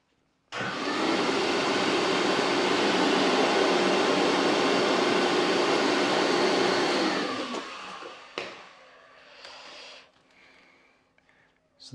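Car wheel being rinsed with water: a loud, steady rush of spraying water that starts abruptly and runs for about seven seconds, then cuts off and leaves faint drips and handling noises.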